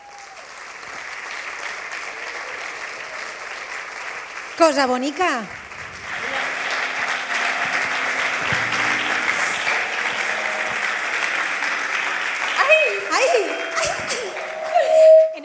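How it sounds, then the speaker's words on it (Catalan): An audience at an album launch applauds a guest invited onstage, a building wave of clapping with laughter and voices mixed in, a host speaking briefly over it. "Fort aplaudiment per a Mireia Vives"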